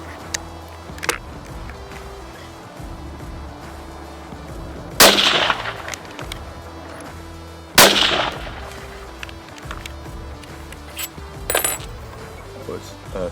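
Two loud rifle shots from a Merkel K5 firing RWS 130 grain factory ammunition ring out several seconds apart outdoors, each a sharp blast with a short decay, plus a fainter crack near the end over low background noise.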